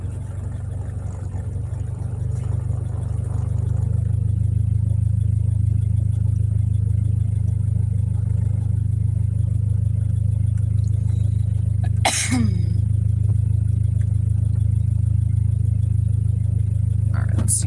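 A Honda K24A2 engine in a hatchback being tuned runs loud and close with a deep steady drone, rising slightly in level early on and holding high, with a brief sharp clatter partway through.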